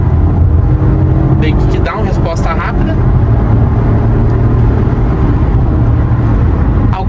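Engine and road noise of a Volvo XC40 hybrid with a turbocharged combustion engine under hard acceleration, a loud steady drone throughout while someone speaks over it.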